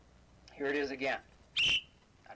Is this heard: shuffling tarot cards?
no